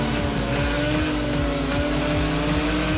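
In Project CARS 2 GT3 online racing, race car engines drone and shift down through the gears as a car brakes hard, with steady loud engine tones and tire noise throughout.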